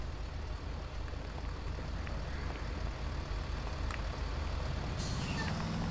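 Truck with air brakes in GTA 5, its engine rumbling steadily throughout, with a sharp air brake hiss bursting in near the end.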